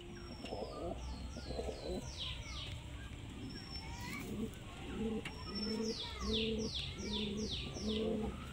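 Pigeons coo in soft, repeated phrases, with light chirps and wing flutters mixed in at a moderate distance.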